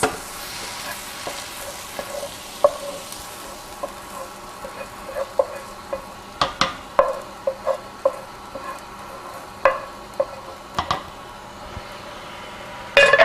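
Softened onion and peppers are stirred into a simmering pasta sauce in a pan, giving a low sizzle with repeated sharp spoon clinks and scrapes against the pot at an uneven pace.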